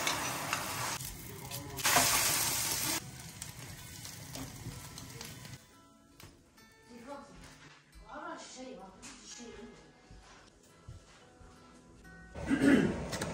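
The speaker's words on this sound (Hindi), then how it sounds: "You fry on medium heat." Food frying in oil in a pan from Costco over medium heat, with a bright hiss and sizzle in short loud bursts, fainter between, while people talk nearby.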